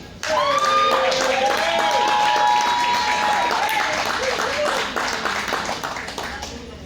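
An audience claps loudly for a poet heading to the mic at a poetry event, with dense sustained applause mixed with whoops and cheering voices, gradually fading near the end.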